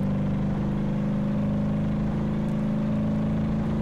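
A steady, droning engine hum from a Maluch 126P in BeamNG.drive, using the game's default audio, with a constant low tone, running continuously at close range with no voices.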